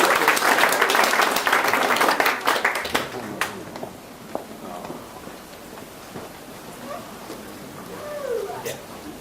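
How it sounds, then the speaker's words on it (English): Wedding guests at a reception clap for Margaret, who did the church flowers, a dense burst of applause that thins out after a few seconds, leaving scattered claps and murmuring room noise. "a round of applause to Margaret"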